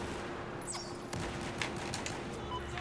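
Gunfire from a Battlefield 4 Rush match on the Zavod Graveyard Shift night map, scattered shots and bursts at moderate distance over constant background battle noise, with no voices.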